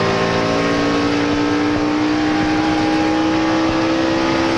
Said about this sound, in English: Let's look at a couple of onboards. First, you're riding with Robbie Gordon